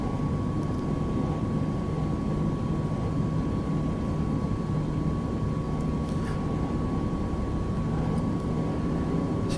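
Cessna Caravan in a flight simulator game taxiing onto the runway, a steady loud turboprop engine drone with a constant whine, continuous and unchanging, no talking.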